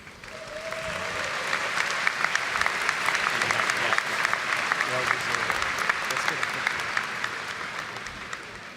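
A graduation ceremony audience applauds faculty award recipients at CVCC, a broad, even wash of clapping that holds steady throughout, with a brief tone and murmured voices faintly beneath.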